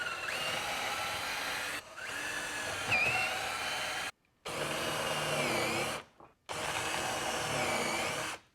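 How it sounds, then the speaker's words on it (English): A power drill drives a 7/8-inch Forstner bit into wood to countersink a lag screw head for a garden arbor, whining loud and close in three long bursts separated by brief pauses. "We are then going to use a 7/8-inch Forstner bit to countersink that head, the lag screw head, down into the wood"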